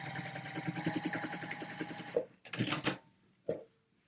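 A sewing machine stitches quilt pieces in a fast steady run for about two seconds, then stops; a few handling clunks and rustles follow, close and with no talk.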